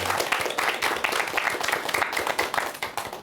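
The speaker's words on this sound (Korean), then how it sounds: "우리 저분께 박수 한번 주세요." An audience at a talk applauds, with a lively burst of many hands clapping close and steady, thinning slightly toward the end.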